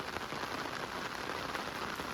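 Steady, dense rain hissing down without a break, close by and fairly loud, with no voices.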